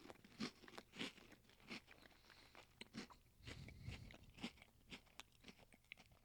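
Crunchy bites and chewing of a pumpkin spice Oreo with burnt orange cream filling, close and quiet, a series of sharp crunches spaced irregularly with softer mastication between them.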